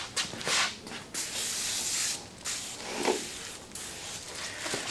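Spray lubricant hisses in several close bursts of varying length onto the rubber windshield seal of a Willys MB jeep, with brief pauses between sprays.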